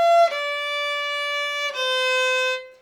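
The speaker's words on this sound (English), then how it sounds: "So this whole part from there to the end in second position looks and sounds like this." A viola plays a short passage in second position, a few bowed notes, one long sustained tone, clear and close with no other sounds.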